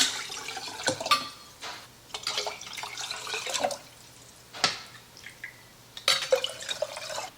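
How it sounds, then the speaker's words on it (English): Homemade beef bone broth is poured into quart canning jars, with splashing, trickling and dripping liquid and occasional glass clinks, close by and uneven in rhythm. "Now all we're gonna do is take our broth and put it in our jars."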